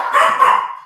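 A dog gives a single loud, close bark that lasts just under a second, heard alone without talk.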